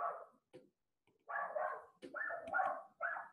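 A small dog barks close by indoors during a mathematics lecture, giving short repeated barks in quick bursts with brief pauses between them, with no talk over it.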